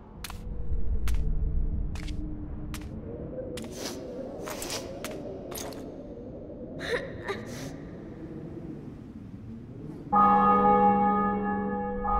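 Church bells ring out in a royal fortress city just taken in battle: a run of sharp, separate strikes spaced over several seconds, then a loud sustained ringing tone that swells in near the end.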